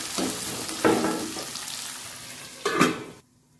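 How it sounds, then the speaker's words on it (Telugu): Diced carrots and beans with curry leaves frying in a pan for semiya upma give a close, bright sizzle that surges twice when stirred, then cuts off abruptly. "క్యారెట్, బీన్స్ ఫ్రై అయింది చూడండి"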